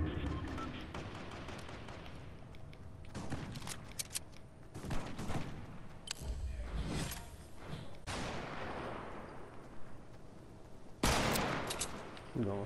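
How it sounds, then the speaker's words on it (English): Bursts of video-game gunfire, including rapid volleys and single loud shots, come in irregular clusters, with players talking over the shooting. "I shot at the wrong thing."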